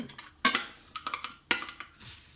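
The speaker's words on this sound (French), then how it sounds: "on va couper bien au centre. Donc prenez un couteau qui coupe." A knife cuts down through the center of a caramelized orange cake baked in a frying pan, giving a few sharp taps and clinks against the plate with scraping between them, close and fairly quiet, with no talking.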